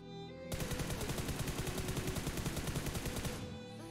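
Rapid, sustained automatic gunfire fills a battle royale video game match with close, dense, rattling bursts lasting several seconds before cutting out, with no voices over it.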